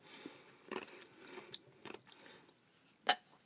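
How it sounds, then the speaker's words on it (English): Ice cubes crunched between the teeth during a podcast, a few soft bursts of chewing scattered across a few seconds, with one sharper, louder crunch near the end, close and quiet with no talking. "I'm sorry y'all are going to hear crunching for a second. I got ice in my mouth"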